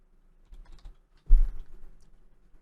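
Close-up typing on a computer keyboard, a few soft key taps followed by a louder burst of quick clicks and clatter in a quiet room.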